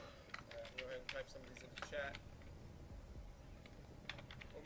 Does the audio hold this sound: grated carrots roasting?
no